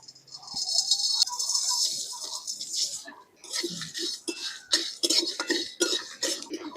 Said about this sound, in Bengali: সব মশলা একসাথে শুকনো কড়াইতে দিয়ে ভালো করে ভেজে নেব।